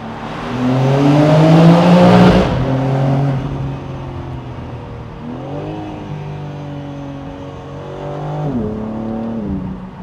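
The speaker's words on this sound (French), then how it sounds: "V8 compresseur" A supercharged V8 car engine revs hard and climbs in pitch, drops back, then surges through several rising revs nearby, loud and growling.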